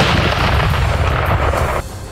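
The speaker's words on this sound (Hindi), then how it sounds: "गोले लोड होते ही उन्होंने जोरदार धमाका कर दिया" A Ukrainian artillery cannon fires a shell during a training drill, a loud, close blast whose roar rumbles on before cutting down sharply near the end.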